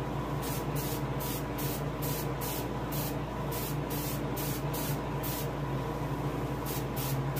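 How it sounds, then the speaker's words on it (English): An airbrush sprays paint onto a largemouth bass taxidermy mount, a steady close hiss with short repeated bursts of brighter spray layered over it. "let the edge of your spray hit the scale just to highlight it"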